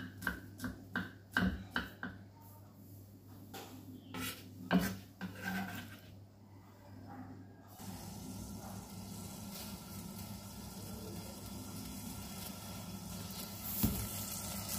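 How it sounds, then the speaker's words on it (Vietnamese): A knife chops peeled purple shallots on a cutting board in a home kitchen, giving a quick run of close, crisp taps for several seconds before a steady hissing background takes over. "những cái củ hành tím mình vừa bóc vỏ xong rồi đấy nhá, thì mình sẽ thái nhỏ hết ra"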